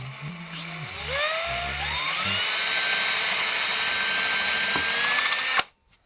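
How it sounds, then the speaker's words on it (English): A power drill whines steadily, its pitch climbing as the motor spins up, then stops abruptly near the end, drilling locator pin holes in an electric guitar fretboard. "I'm going to drill some locator pins in here."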